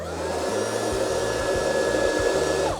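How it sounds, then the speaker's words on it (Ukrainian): A Dnipro-M DVB 200 leaf blower with its bag removed, running on its lowest first mode: a steady, close, continuous whooshing motor drone with an even high whine, unbroken for the whole stretch and with no voices. "Беремо нашу повітрядувочку DVB 200, знімаємо мішечок, бо ми зараз будемо дути."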